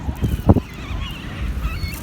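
Geese honk in a few short, close calls while being fed by hand, with a rough burst near the start and softer, thinner cries trailing after over low wind-like rumble.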